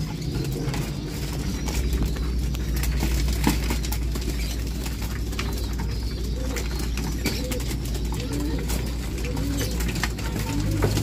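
Racing pigeons coo steadily over a constant, loud outdoor wash of background noise during a summer derby race in Tagudin, Ilocos Norte, with no clear talk.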